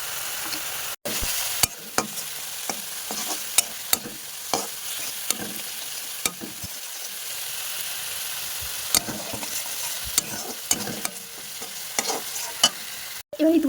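Spices fry in a pan for egg malai curry, with a steady background sizzle broken by frequent sharp clicks and scrapes of a spatula stirring against the pan at an uneven pace. No voices are heard.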